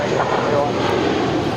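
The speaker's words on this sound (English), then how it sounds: "This is Spirit Airlines Flight 631 departing to Atlanta. It's an Airbus A320." Spirit Airlines Airbus A320 jet roaring on its takeoff run at LAX, a steady broadband engine rumble filling the whole moment, with talk faintly mixed in.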